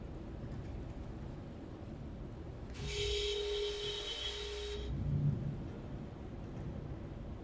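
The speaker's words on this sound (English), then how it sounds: "It's like I hear the rain." Rain and thunder in the flight simulator game Microsoft Flight Simulator 2020, with a Boeing 777-300ER on a flight from Haiti to St. Maarten; a rumbling, hissing stretch of storm noise stands out for about two seconds over steady background.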